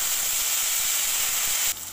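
Raw plantain pieces frying in hot oil for an Assamese egg curry, a loud steady hissing sizzle that drops abruptly near the end.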